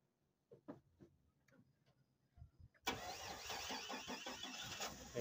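A pickup truck engine being restarted after a new starter cable was fitted: a few quiet ticks and clicks, a brief crank, then the engine catches and settles into a loud, steady, close idle.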